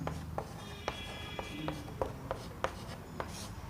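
Chalk or marker strokes on a board tap and scratch in a quick irregular rhythm of short, sharp contacts, close and fairly quiet.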